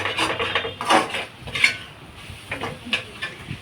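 Egg rice stirred and mixed in a pan, with soft scraping and clinking of a metal spoon against the pan in irregular bursts, close and fairly quiet, no talking.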